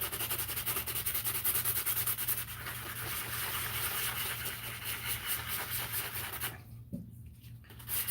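Steady, rough rubbing strokes of sanding run continuously over a low engine-like hum, then briefly drop away near the end.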